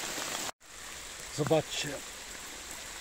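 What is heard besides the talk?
heavy rain falling in a forest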